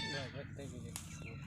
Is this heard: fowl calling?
yes